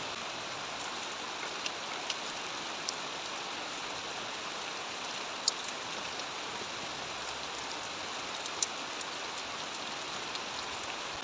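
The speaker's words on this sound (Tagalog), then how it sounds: "Maingay yung ulan, naabutan tayo ng ulan." Steady rain falls throughout, a dense even hiss with a few brief louder drips and ticks, heard during electrical work on a wall light switch box.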